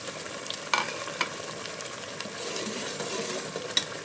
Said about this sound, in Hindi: इसको अच्छे तरीके से भून लेंगे।